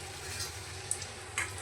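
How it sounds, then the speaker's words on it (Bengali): Chicken balls fry gently over a low gas flame, a quiet, even sizzle with a couple of small clicks from stirring, heard close with no speech. "গ্যাসটাকে সিম করে আস্তে আস্তে ভাজতে হবে"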